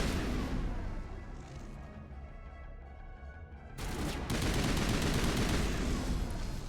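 Pistol gunfire in the video game Mass Effect, a dense, loud clatter of shots with blasts, easing into a rumble midway before a sharp louder burst of firing resumes.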